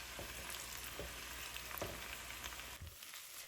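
Mixed vegetables for shingara fry in a pan with a dense, continuous sizzle as cooked liver goes in, punctuated by soft scraping stir strokes, then the sound briefly dips and thins near the end; no one speaks.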